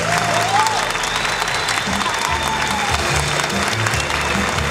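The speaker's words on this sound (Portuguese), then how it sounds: "Uma salva de palmas para vocês!" An audience at a Christmas show in Santos, Brazil claps loudly and continuously, dense steady applause filling the room with a faint tone drifting over it.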